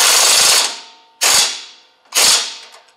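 Snap-on socket cracking while ratcheting a nut during a rear receiver hitch install on a Polaris RZR Pro XP: three loud, sharp metallic cracks about a second apart, each ringing briefly before fading.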